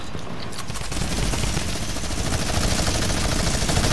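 Rapid automatic gunfire in a squad shooter video game, a loud dense burst of shots starting after a short lead-in and rattling on without pause to the end.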